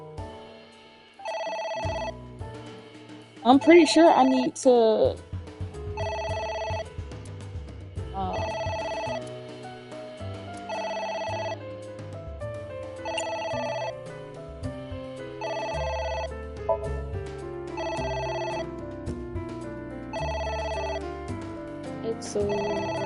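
A telephone rings over and over in AI: The Somnium Files, a steady pattern of bright repeating tones sitting over layered game music, while a person talks briefly in the middle.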